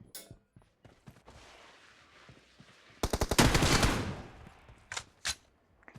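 Rapid bursts of automatic gunfire from a shooter video game, with scattered single shots leading into a loud sustained volley in the middle and a few sharp isolated shots near the end.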